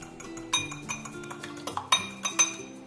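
A metal fork clinks and scrapes against a bowl in quick irregular strokes, beating eggs until yolk and whites combine, close up and clear, with no talking.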